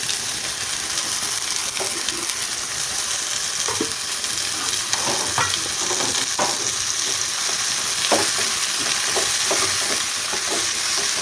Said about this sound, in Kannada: ಇದೆಲ್ಲ ಸ್ವಲ್ಪ ಎಣ್ಣೆಯಲ್ಲಿ ಫ್ರೈ ಆಗಬೇಕು